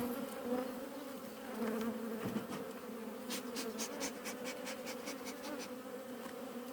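A honeybee swarm around a young new queen hums in a steady, close, continuous drone, with a few brief higher buzzes from individual bees flying past near the microphone.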